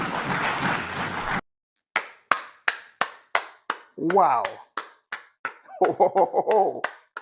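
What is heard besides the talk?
audience applause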